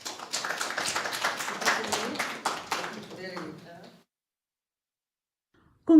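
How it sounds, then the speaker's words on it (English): A burst of audience clapping at an art exhibition and book launch, fairly close and lively, that thins out and fades to silence after about four seconds before a brief sound at the end. "with a warm round of applause."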